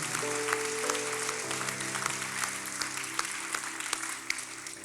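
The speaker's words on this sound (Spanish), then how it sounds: "God a clap, a round of applause" A church congregation gives a round of applause to God, a steady, moderately faint wash of clapping over a sustained instrumental tone in the hall.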